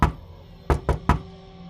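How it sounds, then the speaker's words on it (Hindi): Knocking on a wooden door: one loud rap, a pause, then three quick close knocks in a row, sharp and near, with no talk. "बहुत दरवाजा खटखटाया"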